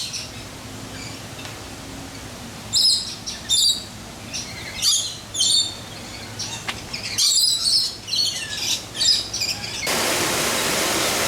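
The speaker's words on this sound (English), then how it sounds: "which is a free flight aviary. And for a couple of bucks, you can feed the lorikeets, and sometimes they'll land on you" Lorikeets in a free flight aviary at a zoo give sharp, high chirps and squawks in scattered bursts over a quiet background hiss, ending in a steady noisy rush.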